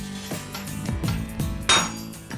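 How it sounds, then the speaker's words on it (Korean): Blacksmith striking hot metal with a hammer at a small forge, a rapid series of ringing metallic clinks and taps in a steady working rhythm, close and clear with no talk. "망치 소리는 경쾌한 음악 소리가 되는 것."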